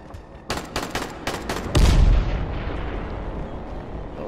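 Gunfire in the zombie survival game Dying Light during a fight in Rais's ambush: several sharp, separate shots crack out near and loud, then a heavy blast booms and rumbles away.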